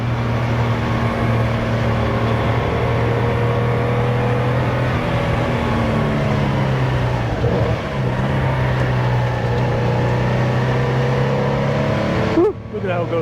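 A restored 1970 Porsche 914-6 flat-six runs steadily with a constant low drone and a strong harmonic hum, sounding as if recorded from a moving car, with a brief disturbance near the end.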